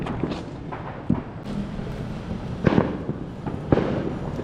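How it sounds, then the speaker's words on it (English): Fireworks and firecrackers crack and pop at a distance during the Griteria celebration in León, Nicaragua, several sharp bursts scattered irregularly over a steady crowd-and-street background hum. "You might be able to hear the fireworks going off."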